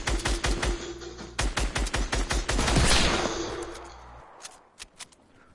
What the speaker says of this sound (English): Who just shot me?